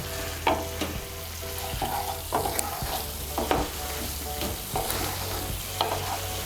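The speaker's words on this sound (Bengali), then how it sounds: "আলুগুলোকে মশলার সঙ্গে ভালো করে মিশিয়ে নেব।" Potatoes coated in spices are stirred in a hot pan, with rhythmic scraping strokes about every second over a soft, constant sizzle.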